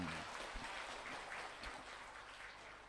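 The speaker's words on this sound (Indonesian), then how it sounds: "Tepuk tangan dong." An audience at a spiritual talk gives a faint, steady patter of applause that stays soft and distant throughout.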